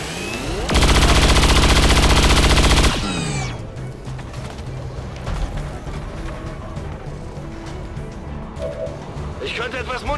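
Automatic gunfire from the XCOM 2 video game: a loud, sustained burst of rapid shots lasting about two seconds, then a quieter stretch of game sounds with a few scattered impacts and chirps.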